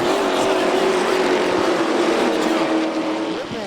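Pro trucks race on the dirt oval at Volusia Speedway Park, a loud, dense roar of several engines held close, sweeping past at high revs with a slight fade near the end.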